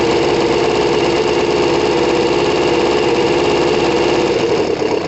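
Small engine running steadily after a choked start, a loud, close, even buzzing drone that holds for several seconds with no talking.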